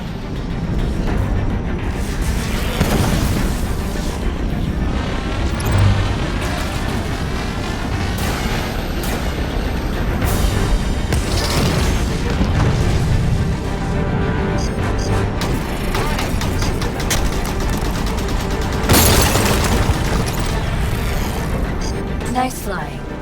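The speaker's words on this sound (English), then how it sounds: "Watch the fire from those turrets!" Turret fire and explosions in the Halo 5: Guardians campaign, a dense, continuous barrage of booms and gunfire with louder blasts near the end, under game dialogue.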